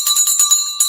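A small handheld bell is shaken quickly at a stock-market close, giving a bright, metallic jingle of about seven rapid strikes with a sustained ringing tone, close and loud, without talk.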